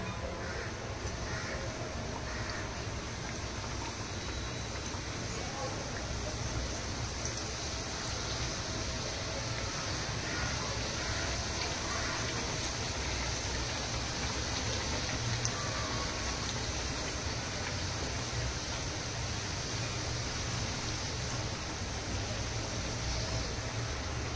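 Folded karanji, sweet dumplings for Gauri Ganpati faral, frying in hot oil with a steady, soft hiss and crackle like light rain, continuous and even throughout with no talk.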